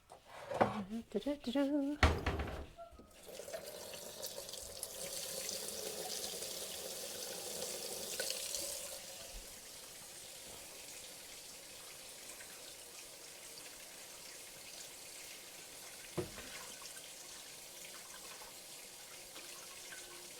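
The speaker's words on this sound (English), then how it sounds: "Okay, I'm gonna get my warm water." Warm water runs from a kitchen tap for several seconds after a few clattering knocks, then fades to a quiet, steady trickle, with a speaking voice partly over it.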